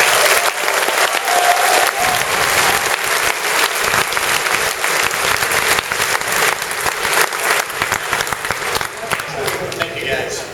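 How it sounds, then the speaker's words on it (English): A large audience at PAX Prime 2011 bursts into loud, sustained applause and cheering for the whole stretch, dense clapping filling the hall with a few voices mixed in. "Give a loud round of applause."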